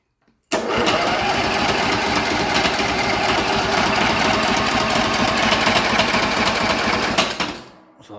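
A Pro-Class racing lawn mower engine catches on its first crank and runs loud and steady at close range for about seven seconds with a rapid mechanical chatter, then cuts out and winds down.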